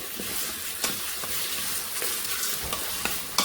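Mutton curry being stirred in a pot over heat, a constant sizzling hiss with repeated scraping and clinking strokes of the spoon against the pot.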